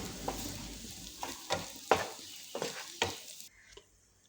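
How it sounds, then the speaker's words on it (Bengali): Green chili peppers and garlic frying lightly in a pan, quiet sizzling with several distinct stirring scrapes at an irregular pace, fading to near silence at the end. "এবার লঙ্কাটাকে রসুনের সঙ্গে একটু ভেজে নিব, বেশি ভাজবো না, একটু হালকা করে ভেজে নিব।"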